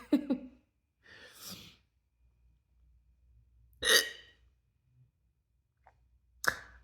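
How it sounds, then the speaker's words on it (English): A person's hiccups, three or four abrupt, breathy jolts spaced several seconds apart, close and fairly loud, with quiet breathing between them. "I wonder how long this hiccup spell is gonna last."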